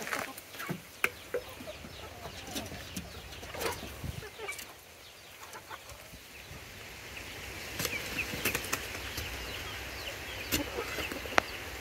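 Chickens cluck faintly in a rural village setting, with short scattered calls over a soft outdoor background that grows slightly busier toward the end.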